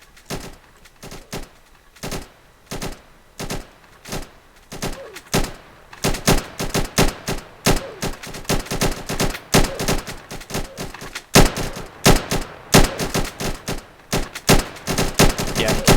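Soldiers in a Roblox game fire guns in rapid, sharp bursts, sparse at first and then dense and continuous, loud and close.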